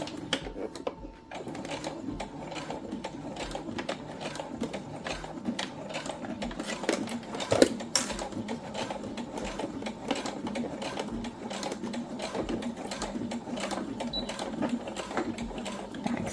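A sewing machine runs slowly and steadily through a seam on a synthetic leather boxy pouch, its rapid needle clatter continuous and close for the whole stretch, with a sharper knock near the middle.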